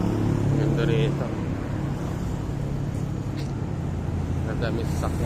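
Steady evening traffic in Kuala Lumpur: many cars and other vehicles roll past as a continuous broad roadway rumble and hiss, with a few faint higher clatters and no voices.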